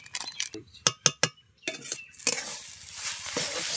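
A spoon scrapes and clinks against a pan while masala is stirred into a cooking potato mixture for crisp potato patties, sharp metallic taps first, then a steady scraping sizzle.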